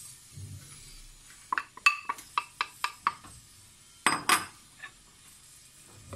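A spoon stirs eggs and corn in a bowl for a zucchini and corn pudding, giving a quick run of sharp, evenly spaced clinks against the bowl, then a brief scraping burst and a softer tap, with quiet pauses between.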